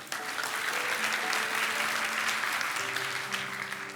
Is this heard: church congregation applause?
yes